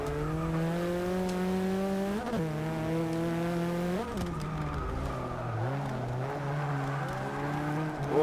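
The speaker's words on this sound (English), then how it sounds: "We overtook some people in our OPEL Manta." An Opel Manta race car in the racing game Forza 6 drones loudly as its engine revs climb, drop sharply at gear changes, then climb again, with brief tire noise.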